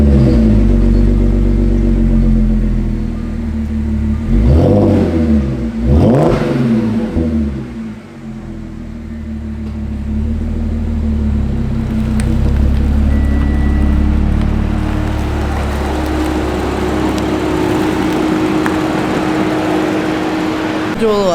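An Audi V6 turbo engine cranks and fires up with a loud rev on a warm start, then settles into a deep, rumbling exhaust idle.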